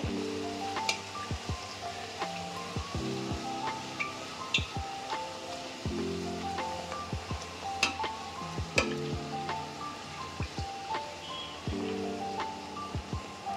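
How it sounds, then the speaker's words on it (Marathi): Palak puris deep-fry in hot oil over a medium flame, giving a steady, faint sizzle dotted with small popping clicks that continues throughout. "आता एक एक पुरी आता आपण चांगली त्याला तळून घेऊया। मीडियम फ्लेमवरच तळायचं आहे।"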